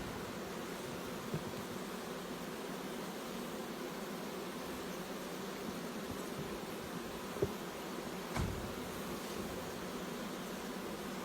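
Honey bees hum steadily around an open hive during queen excluder work, a continuous soft drone with a few small knocks and a brief thump.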